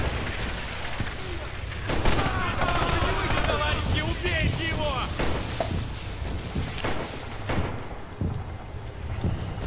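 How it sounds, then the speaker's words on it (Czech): Muffled gunfire from a distance in the video game Rising Storm, scattered shots and bursts popping irregularly amid a noisy, rumbling game soundscape, with a voice talking over it. "Tam někdo střílí z dálky"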